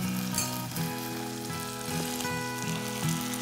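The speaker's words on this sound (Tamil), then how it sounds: "நல்லா வதங்கணும் இந்த வெங்காயம் சின்ன வெங்காயம் நல்லா வதங்கி வரணும்" Small onions (shallots) sautéing in a pan give a steady, close sizzle that runs throughout, with a faint tonal hum beneath it.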